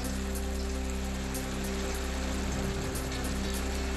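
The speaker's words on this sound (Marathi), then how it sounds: "जालना जिल्ह्यातील राजूरसह परिसरामध्ये अवकाळी पावसाची जोरदार हजेरी" Heavy unseasonal rain in Rajur, Jalna district, falls as a steady, dense hiss of drops on surfaces, with a constant low mechanical hum underneath and no voices.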